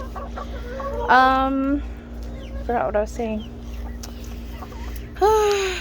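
Chickens in a new coop cluck and squawk in short rising calls close by, several bursts spaced over a few seconds, with a person talking between them.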